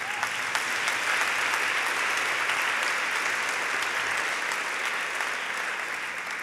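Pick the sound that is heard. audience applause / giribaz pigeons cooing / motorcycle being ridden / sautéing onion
audience applause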